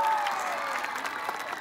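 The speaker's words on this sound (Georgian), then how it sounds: "აბა ერთი დამანგრეველი აპლოდისმენტები?" A concert audience in Tsalenjikha claps together in a brief, dense burst of applause. The clapping stays even and fairly close, with a voice briefly over it.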